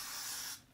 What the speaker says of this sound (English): I just take the freeze spray and kind of go crazy with it